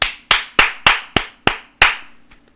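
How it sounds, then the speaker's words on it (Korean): Seven sharp, loud hand claps ring out in a steady, slightly slowing rhythm at a Korean political rally, followed by a faint final tap. "여러분 박수"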